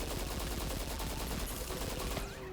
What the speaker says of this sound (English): Guess I didn't shoot at him enough.